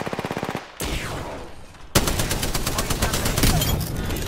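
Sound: gun firing in Apex Legends video game

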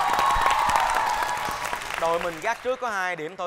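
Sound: audience applause for a game show contestant

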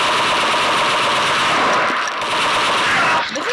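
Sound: gunfire from a weapon in a video game

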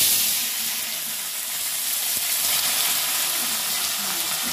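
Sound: garlic frying in hot mustard oil

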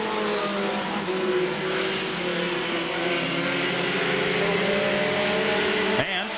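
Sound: mini stock race cars racing at Columbus Motor Speedway

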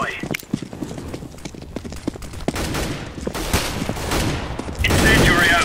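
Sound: decoy grenade gunfire in Counter-Strike GO video game

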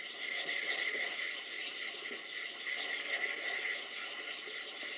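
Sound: flattening sharpening stones by rubbing them together

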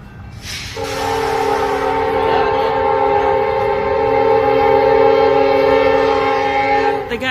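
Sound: train approaching with horn

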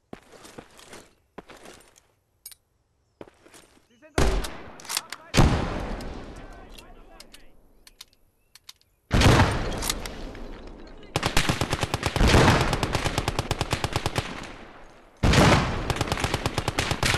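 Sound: enemy gun firing in Call to Arms Gates of Hell video game

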